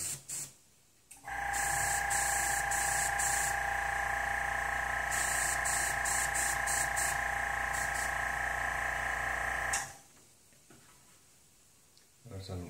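An airbrush spraying paint on a motorcycle hisses in a steady, loud, close stream for about eight seconds, with a small motor buzzing and clicking along, then stops and leaves a quiet room.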